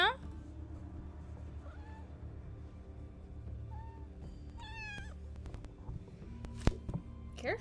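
A pet cat meows close by, several short rising and falling calls spread through the clip over a low background hum and faint game sounds.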